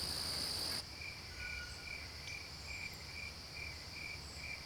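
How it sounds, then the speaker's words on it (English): Crickets chirp in a steady, evenly spaced rhythm outdoors on a foggy autumn morning, faint and distant over a soft constant background hiss, with a brief higher insect whine at the start. "all my ears can hear are the crickets and birds chirping and a soft trickling of water."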